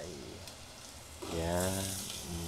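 Onions going into a hot pan for a simple home-cooked dish, a bright sizzle swelling up partway through and holding steady at close range, with a voice speaking briefly.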